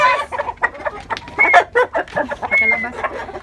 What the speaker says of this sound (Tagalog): Twice a day ako nagpapakain ng mga ng aking mga alagang manok.